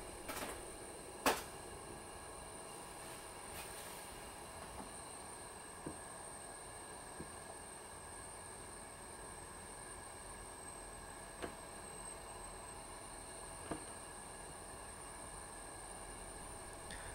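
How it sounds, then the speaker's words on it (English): Motor driven by a moteus controller with high bandwidth gains, emitting a continuous thin high-pitched squeal with a few faint clicks scattered across a long, quiet stretch. "when we power on the motor, we can hear a much louder audible squeal, which is one of the downsides of using high bandwidth gains"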